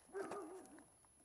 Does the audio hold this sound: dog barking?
yes